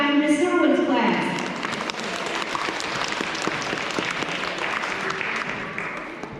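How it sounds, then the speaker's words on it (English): An audience at a K-2 school awards ceremony claps for a class, a dense burst of applause that starts right away and carries steadily for several seconds before easing, with a voice briefly heard at the start. "Let's clap for Miss Irwin's class"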